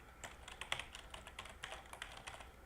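Typing on a computer keyboard while entering a Linux server command, a steady run of quick, fairly close key clicks with uneven rhythm and a few harder taps, no talking.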